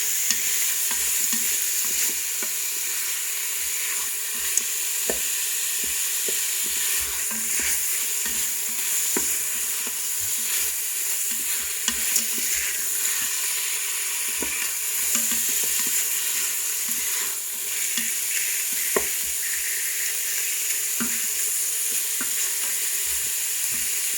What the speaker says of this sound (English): You see how quickly the meat is browning?